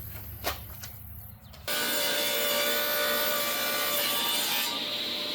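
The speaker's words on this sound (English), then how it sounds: "So we'll go ahead and rip them down on a table saw." Table saw ripping treated 1x6 lumber into 5/8-inch trellis strips: a quiet start with a few faint knocks, then the blade bites in and a loud, sustained high whine of cutting runs steadily to the end.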